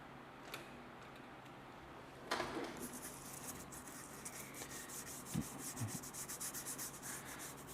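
Colourlock leather dye is rubbed by hand into the leather of BMW M3 carbon bucket seats, giving a quiet, close, steady scrubbing and rubbing texture with a few soft knocks, alone without speech.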